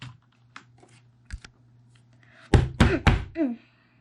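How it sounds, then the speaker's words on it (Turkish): A hand bangs on a table in a few dull thumps: light knocks early, then a loud cluster of heavy, close hits near the end, with a voice briefly heard. "Masaya vuruyorum"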